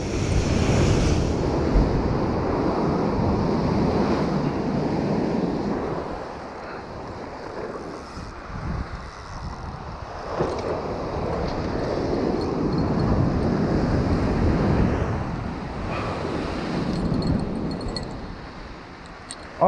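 Ocean surf rolls onto a beach during surf fishing, broad washes of breaking waves swelling and fading every few seconds under gusty wind noise, with no voices.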